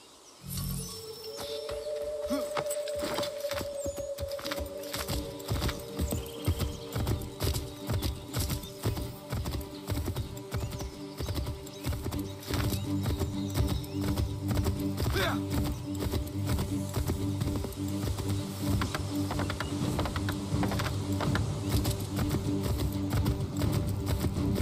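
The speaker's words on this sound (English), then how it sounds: "Take my horse! Bring him here!" Horse hooves clip-clop steadily in the Assassin's Creed III video game, a continuous, close, galloping rhythm with a whinny near the start, birdsong, and voices speaking over the hoofbeats.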